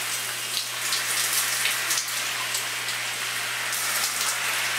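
Steady patter of rain drumming on a plastic Decathlon poncho close by, a dense continuous hiss with scattered louder drops, no voices.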